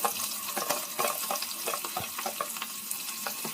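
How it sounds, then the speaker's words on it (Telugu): Onion pieces frying in a pan with hot oil, a close, steady sizzle with small irregular crackles and pops throughout. "కొంచెం వేగగానే ఆనియన్ ముక్కలు వేసుకోవాలండి"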